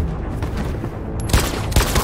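Gunfire from the video game Detroit: Become Human, a dense burst of in-game shots with two sharper loud reports near the end, heard without talk over a noisy game background.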